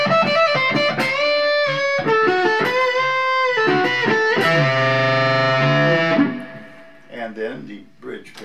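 Thick, fat distorted electric guitar on the neck pickup plays a melodic line with sustained notes, then fades into quieter picked notes near the end.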